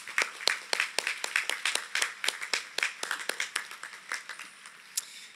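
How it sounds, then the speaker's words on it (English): High school graduation audience applauding guests, with sharp, distinct claps over a steady patter of many hands in a large space, gradually thinning toward the end. "Round of applause for those guests."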